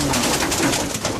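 Cooing of a yearling female racing pigeon, a soft continuous throaty coo running through the whole short moment at close range, with no talk over it.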